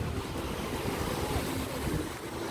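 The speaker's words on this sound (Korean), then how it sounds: "자, 그냥 꼭 파도 한번 보세요." Sea waves wash onto Daecheon Beach in South Korea on a summer day. The surf makes a soft, continuous broadband hiss, mixed with gusty wind buffeting the microphone, heard faintly from nearby.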